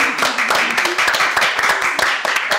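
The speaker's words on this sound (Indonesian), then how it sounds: "tepuk tangan dulu dong untuk kakak-kakak gemes kita" Lively applause and clapping from a karaoke venue audience for the hostesses, loud and close with sharp individual claps standing out in a steady burst.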